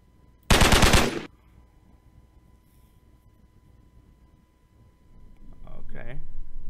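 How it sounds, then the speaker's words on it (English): Automatic gunfire in the zombie video game Dark Illusions rips out in one loud, dense burst of about a second, followed by quiet and a speaking voice near the end. "Is there anything else I can do besides shoot the zombies?"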